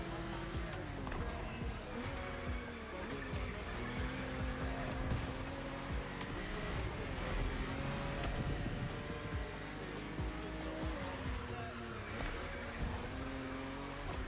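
An old-school Porsche 911 races in The Crew Motorfest, its engine droning steadily at high revs with shifting pitch and occasional tire squeal, loud and continuous with faint talk underneath.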